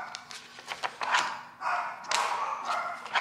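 Dogs barking indoors in a home, several sharp, irregular barks and yips close by, with thumps in between.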